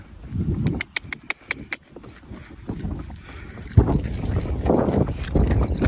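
Mare's hooves clip-clop in a quick, regular rhythm on a hard surface, fairly close, with low rumbling background noise and occasional faint voices.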